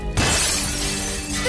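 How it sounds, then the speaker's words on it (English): A chair is thrown through a glass window, setting off a sudden loud shatter that bursts in and sprays into a sustained crash of breaking, tinkling glass for over a second, with no voices. "Throw that chair through the glass."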